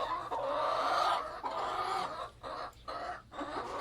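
Several backyard chickens near laying age cluck and chatter continuously nearby, with a few short pauses between bursts of clucking.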